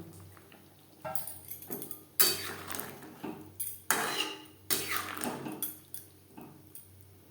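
Boiled, fried potatoes being stirred into masala paste in a metal pot for Kashmiri alu dum, with a run of loud spoon scrapes and clanks against the pot between quieter stirring.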